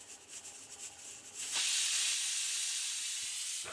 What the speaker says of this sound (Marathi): इथे मी कुकर पण लावलेला आहे त्याची पण आता शिटी होईल